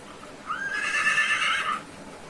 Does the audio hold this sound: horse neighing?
yes